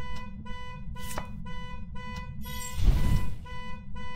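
A car alarm in a video game blares in a rapid, steady electronic pulsing pattern, loud and close, with a brief louder burst of noise partway through and the alarm continuing to the end.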